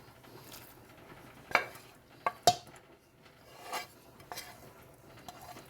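Vegetables and breadcrumbs being worked into a meat loaf mixture, a few sharp knocks and clinks of a bowl or utensil over soft, quiet mixing sounds, fairly near.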